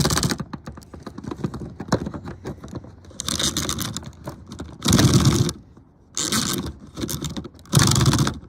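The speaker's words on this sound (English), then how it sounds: "All you gotta do is just pull on this pull string, zip cord sort of thing." A Hulk toy's pull-string zip cord being yanked repeatedly, giving several bursts of whirring, ratcheting noise separated by short pauses, close and fairly loud with no talk.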